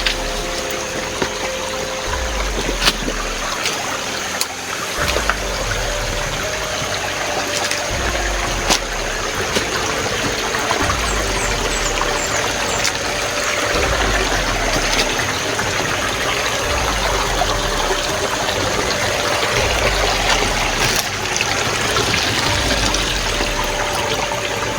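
Creek water flows steadily close by, a continuous gushing and trickling rush with no talk over it.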